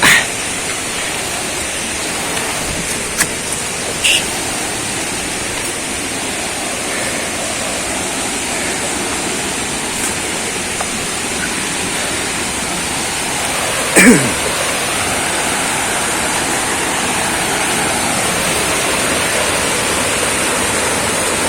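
Small waterfalls along a river in General Nakar, Quezon, pour with a steady, loud broadband rush of falling water that fills the whole stretch, with only faint scattered voices.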